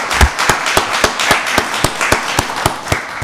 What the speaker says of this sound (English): let's give all of the nominees a wonderful round of applause